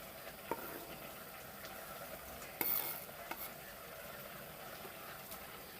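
Vegetables and seasoning being stirred in a pot with sweet pepper, Irish potato, carrot, onion, scallion, garlic and hot pepper, a faint simmering sizzle under soft scraping strokes and a couple of clinks.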